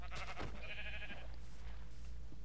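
A sheep in the video game Minecraft gives a single nasal bleat, fairly close and alone against quiet background noise.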